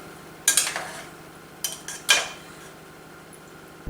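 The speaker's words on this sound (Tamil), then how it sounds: "இந்த சாதம் எல்லாம் உடையாத மாதிரி லேசா இப்படி கலந்து விட்டுருணும்." Gentle stirring of coconut milk biryani rice in a pot, heard as a few soft scrapes and light clinks of a spoon against the vessel, spaced out with quiet pauses between.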